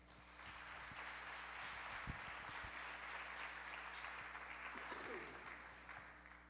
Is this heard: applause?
yes